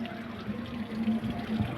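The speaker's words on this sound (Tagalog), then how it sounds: "Sapa." A creek flows beside a planted patch, its water running in a continuous, moderately loud wash with a low steady gurgle and no voices.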